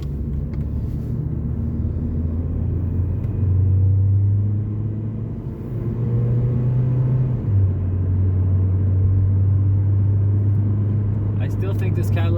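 A Toyota Corolla with a P0137 low-voltage O2 sensor fault labors to accelerate while driving; its engine drones steadily in the cabin, with the hum stepping up in pitch a few times, and faint voices may be heard.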